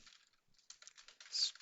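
Quick, light keystrokes tapping on a computer keyboard while entering user data, faint and close, in a short irregular burst with a small gap midway.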